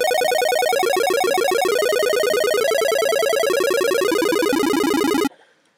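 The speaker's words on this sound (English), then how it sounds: "it's more for a chiptune sort of sound" An 8-bit chiptune chord made from very fast synth arpeggiation buzzes steadily and loudly for over five seconds, a rapid, glittering, stepping pattern that stops abruptly with a short decay.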